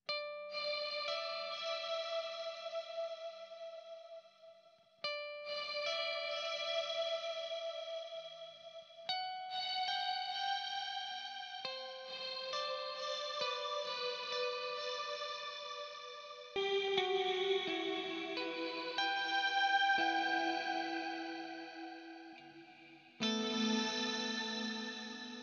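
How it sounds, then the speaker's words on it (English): Electric guitar played through a Kemper Profiler reverb and delay effect, a series of sustained chords and single notes ringing out with shimmering echoes and long washy tails, steady and fairly loud with short pauses between phrases. "it seems to be a both a reverb and a delay"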